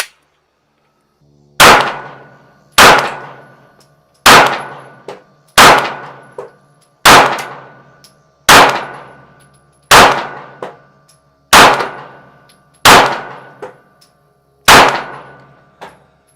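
Ten gunshots fired one after another at a shooting range, each a loud, sharp crack with a ringing decay, spaced roughly a second and a half apart at an even, deliberate pace, with no voices.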